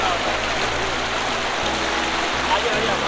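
Strong water rushes at Umbrella Waterfall in a loud, dense, unbroken roar close by, with a low voice faintly under the flow.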